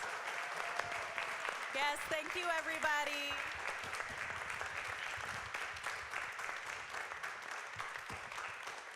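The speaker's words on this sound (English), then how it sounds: "Let's give these folks a round of applause and yourselves" At a community conversation event with local candidates, the audience gives a round of applause, a moderate sustained clapping that carries on while someone thanks the crowd.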